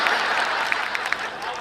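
Audience applause at a kavi sammelan (Hindi poetry gathering), a steady wash of clapping from a large crowd with a few sharper individual claps standing out, sustained throughout.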